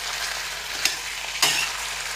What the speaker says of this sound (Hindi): चिकन जो हमारी अच्छे से पक रही है